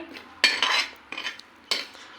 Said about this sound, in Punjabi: ਆਪਾਂ ਇਹਨਾਂ ਨੂੰ ਸਲੋ ਗੈਸ ਤੇ ਬਸ ਇੱਕ ਅੱਧਾ ਮਿੰਟ ਇਹਨਾਂ ਨੂੰ ਆਪਾਂ ਐਵੇਂ ਰੋਸਟ ਕਰ ਲਾਂਗੇ